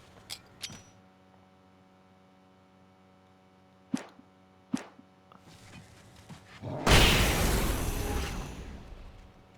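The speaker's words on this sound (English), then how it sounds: "I'm wondering if he's hearing all these flashbangs. They're loud." A few sharp flashbang bangs and thuds ring out in a video game, then a big roaring blast hits and slowly fades away, loud and close, with no voices.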